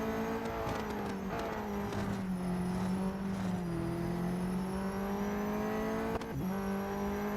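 A race car engine in the video game Real Racing 3 drones steadily for several seconds, loud and continuous, its pitch shifting slightly as gears change, with occasional brief tire noise and no voices.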